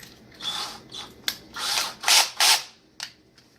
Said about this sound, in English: Now this, unfortunately, I do have to use with a drill, which terrifies me.